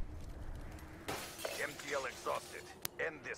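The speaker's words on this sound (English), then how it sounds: "I smashed a whole bunch of glass." Glass shatters in Black Ops 3 gameplay: a sharp crash and breaking burst followed later by a brief bright clink, mixed under players talking over comms.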